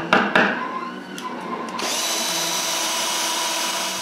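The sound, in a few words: screwing clips onto a box with a power drill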